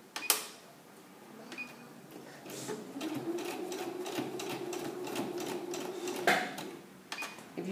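A sewing machine runs a seam on girls' culottes with a steady, fairly quiet motor whir and rapid needle ticking for several seconds, a sharp click at the start and another near the end, close by.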